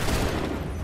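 Musket volley fire on an Assassin's Creed III battlefield, a dense, continuous crackle of many shots merging into a loud sustained roar with no clear gaps.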